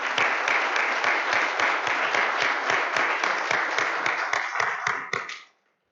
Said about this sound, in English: if you join me with a round of applause for our families.